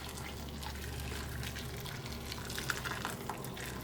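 Boiling water goes into a soup pot holding baby bok choy stalks and carrot slices, a soft, quiet splashing and bubbling pour with faint sizzle, fairly low in level throughout.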